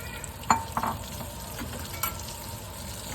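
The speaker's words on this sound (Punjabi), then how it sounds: "ਅੱਧਾ ਕੱਪ ਪਾ ਕੇ ਪਹਿਲਾਂ ਆਪਾਂ ਆਟੇ ਨੂੰ ਭੁੰਨਣਾ ਹੈ" Wheat flour roasting in ghee in a pan for homemade pinni sweets: a steady low sizzle with a few sharp scrapes of stirring, close and alone.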